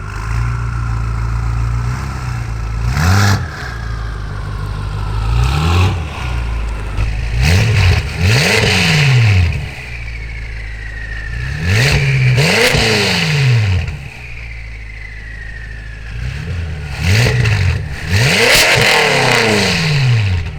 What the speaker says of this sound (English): what the FiExhaust sounds like under full load